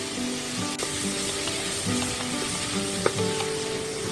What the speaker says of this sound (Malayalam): സവോള നല്ലതുപോലെ വഴന്ന് വന്നിട്ടുണ്ട്